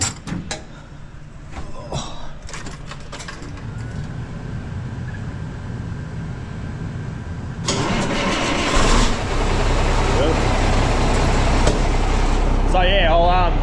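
An engine on a farm cranks and catches partway through, then settles into a steady, loud idle with a low rumble that continues to the end.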